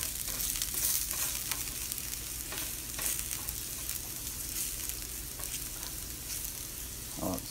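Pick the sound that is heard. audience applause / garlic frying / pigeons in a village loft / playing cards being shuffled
garlic frying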